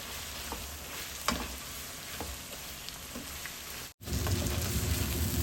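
Shredded cabbage and carrot tossed in a hot pan for chow mein, a steady close sizzle and crackle with occasional scrapes of a spoon, briefly cutting out, then resuming more loudly, with no talking.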